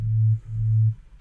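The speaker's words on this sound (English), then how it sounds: "I'm gonna switch the oscillator to a sine wave on octave 2" A sine wave sub bass synth patch in Reason's Thor, set to octave 2, plays two long, loud, pure low tones back to back, each held for about a third of a second, alone.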